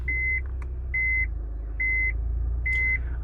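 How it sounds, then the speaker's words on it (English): A 2007 Honda Fit (GD3) sounds its reversing beeper: four evenly spaced, loud, steady electronic beeps, each lasting about a third of a second, over a low engine hum. "the beeping noise, it's quite loud on this car"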